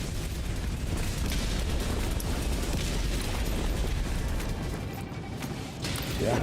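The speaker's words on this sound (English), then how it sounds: "And a walking barrage." A walking barrage in Helldivers 2 pounds away in continuous rumbling explosions, overlapping booms and crackling bursts that roll on heavily for several seconds without letup.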